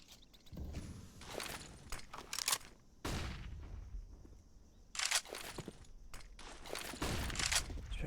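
MP9 submachine gun fire in a Counter-Strike match, several sharp bursts of rapid shots in clusters separated by brief pauses, fairly close.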